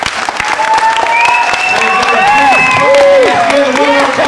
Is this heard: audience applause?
yes